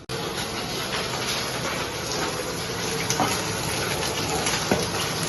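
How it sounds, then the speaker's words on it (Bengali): Fish sizzles loudly in a pan with hot oil, a steady close hiss marked by occasional sharper pops and spatters, with no talking. "মাছ ভাজা"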